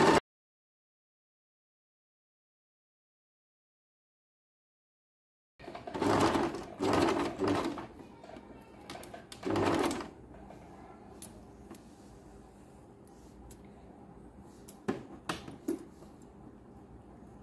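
A home sewing machine stitching fabric for a blouse dori, starting after several seconds of silence with a few loud whirring bursts, then a quieter continuous hum broken by occasional clicks.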